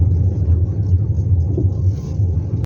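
A car crawls slowly along a snow-covered road into a village, its engine a steady low rumble close by with a faint drone of tyres beneath, holding an even level throughout.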